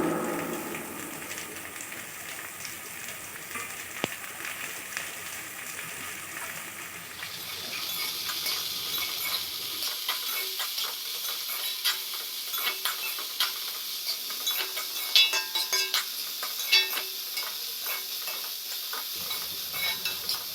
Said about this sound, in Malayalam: ഇതൊന്ന് മൂത്ത് വന്നു കഴിയുമ്പോൾ അരിഞ്ഞു വെച്ചിട്ടുള്ള സവോള ചേർത്ത് കൊടുക്കാം.